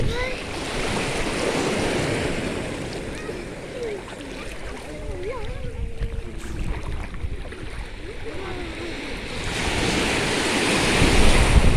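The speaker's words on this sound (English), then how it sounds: "so we're at the beach" Ocean surf washing onto a beach on a sunny day, a steady broad rush of waves with wind buffeting the microphone throughout, swelling louder near the end, with faint voices in the background.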